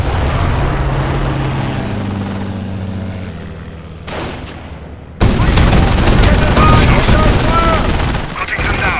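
Rapid machine gun fire in the World War II strategy game Company of Heroes, sustained loud bursts among explosions and battle noise, with a brief lull before the shooting surges again.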